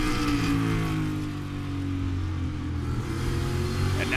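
NASCAR Cup Series stock cars race in the XFINITY 500, a continuous layered engine roar with shifting pitches as cars run close together, steady and loud with no talk over it.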